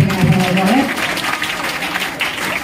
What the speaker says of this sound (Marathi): सायली पाटील मॅडमसाठी सुद्धा एकदा जोरदार टाळ्या या ठिकाणी आपण वाजवाव्या.